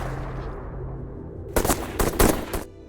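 War film gunfire cuts in after a low rumbling stretch: a loud, close string of bursts and shots crackling for about a second, then stopping abruptly.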